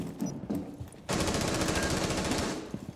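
Rapid automatic gunfire in Rainbow Six Siege, a loud, dense burst of shots lasting about two seconds after a few quieter sounds, then a sharp final crack.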